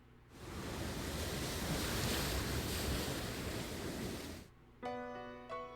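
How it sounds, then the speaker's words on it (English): A sea wave crashes in the Never 7 visual novel, a long, broad roar of surf and spray rising and fading over several seconds, followed by a short bright chime-like tone. "Splash. A wave crashes against us."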